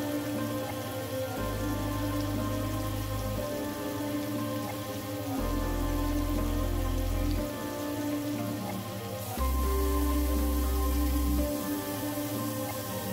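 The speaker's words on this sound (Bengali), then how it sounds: "এবার শাশলিকগুলোকে আমি ঘুরিয়ে ঘুরিয়ে ভালো করে ভেজে নেব।" Chicken shashlik skewers frying in a pan over medium heat, a steady crackling sizzle like rain on a surface, continuous and close, with heavy low hum bursts recurring throughout.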